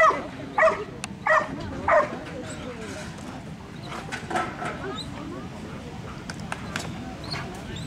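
A dog with a fire brigade canine team at an animal refuge in the southern Alps gives three quick, fairly near barks early on, then quieter yips and whimpers over a faint background of movement.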